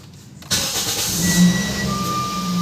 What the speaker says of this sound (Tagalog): Start tayo ng sasakyan.